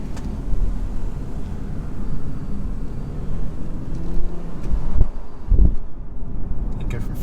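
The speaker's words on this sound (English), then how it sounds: "bit of turbo noise, bit of V6 noise" A Porsche Macan S with a petrol V6 engine and turbo drones steadily from inside the cabin, a low rumbling hum that swells slightly with revs, while a person talks over it.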